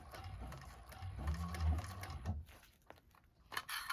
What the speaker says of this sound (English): go a couple of stitches and then back stitch the same amount